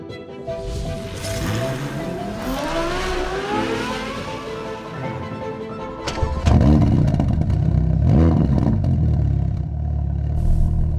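A Ferrari Portofino M with 620 hp drives along a coastal road, its engine note climbing through the revs before breaking into a loud, close roar that holds steady as the car accelerates, with no talking.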